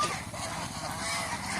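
Domestic geese kept for sale give a few overlapping honks nearby, moderately loud and without talk.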